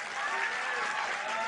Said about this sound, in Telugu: ఇంకొద్ది గట్టి కొట్టాల చప్పట్లు.